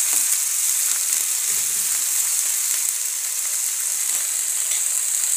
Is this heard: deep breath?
no